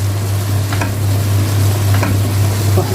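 Minced meat with garlic and tomato paste sizzles steadily in a pan while being stirred, a continuous close frying hiss with a few soft scraping accents.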